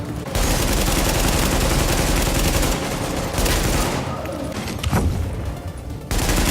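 Heavy gunfire in the video game The Division, with dense overlapping rapid shots and bursts blending into a near-continuous roar, a short lull, then more booming volleys.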